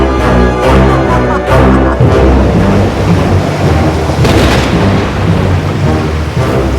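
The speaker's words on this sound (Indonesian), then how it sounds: "Kukirim guru, badai dan kilat, gelombang besar untuk membalikan kapal dan menenggelamkan pangeran." Cartoon storm at sea, rumbling thunder and heavy rain-like roar with churning wave wash, loud and continuous throughout, with deep booming surges early on and no talk.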